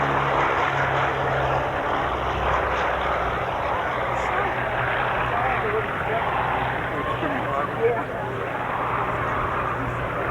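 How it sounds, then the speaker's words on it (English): A Boeing B-17 bomber's propeller engines drone steadily on the takeoff roll at an air show: a loud, constant roar that holds without a break, with a voice talking over it. "And now on the takeoff roll, the Boeing"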